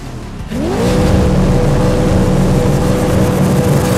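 Race cars roar to life at the start of a wet opening race in the Grid 2019 video game, one loud engine note climbing sharply and then holding a sustained, steady drone.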